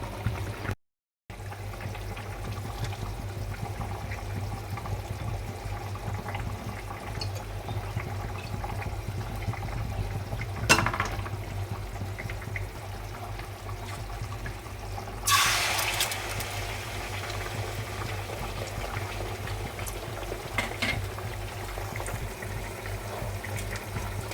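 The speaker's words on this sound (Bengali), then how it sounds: "এখানে ডিমের তরকারি আমার ফুটে গেছে" A pot of egg curry bubbles and simmers steadily at low volume for a long stretch, with a constant low hum and an occasional faint clink.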